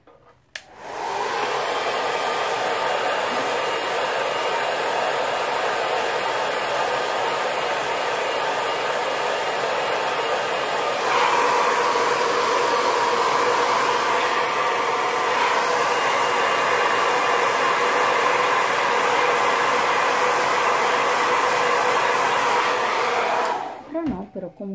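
A hair dryer blows steadily on a painted canvas for over twenty seconds, with a loud continuous whir that shifts slightly in tone partway through.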